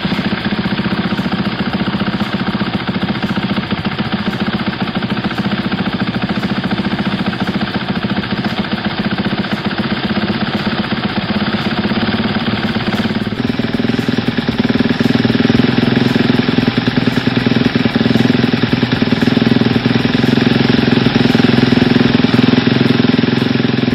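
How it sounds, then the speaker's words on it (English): A motorcycle engine runs at a loud, steady idle during a throttle position sensor and idle adjustment. The rough, pulsing rumble deepens slightly about halfway through, and no one speaks. "Let's fire the bike up."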